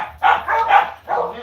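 Dogs bark in a rapid run of three close, loud barks, then another bark after a short pause, in a home kitchen.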